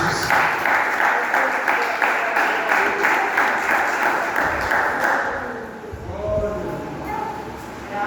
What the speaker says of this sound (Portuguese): E palmas para o Senhor Jesus.